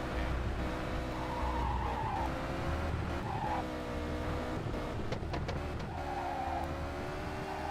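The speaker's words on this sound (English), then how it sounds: "This car is very, very, very, very slidey." Car sliding and skidding through corners in a rally-style racing video game, with steady engine roar and repeated tire squeals rising over it, loud and continuous throughout.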